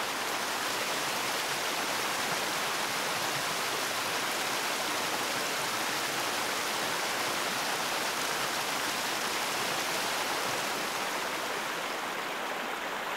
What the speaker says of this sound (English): this exquisitely beautiful waterfall, which has been named as Elephant Falls